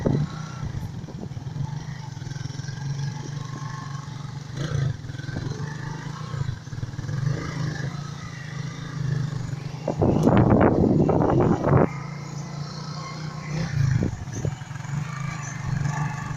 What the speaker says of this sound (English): If a motorcycle will struggle this way, tell me what will happen to a vehicle.